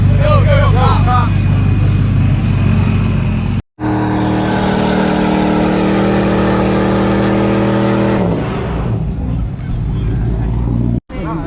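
A truck doing a burnout, its engine roaring and revving hard with tires spinning in a loud, sustained rumble, while people shout over it and the sound cuts out briefly twice.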